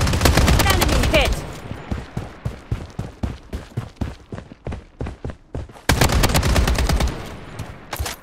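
Gunfire in the shooter game Blood Strike: loud automatic bursts open and close the passage, with rapid single shots in a steady rhythm between them.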